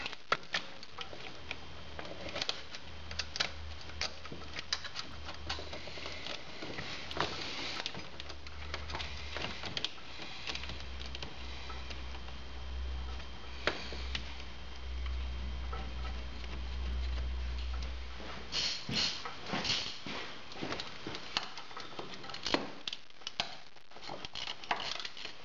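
Bolts are tightened while an electric starter is installed, giving light, repeated ticking and clicking of hand tools, quiet and close, with a low hum underneath in places and no voices.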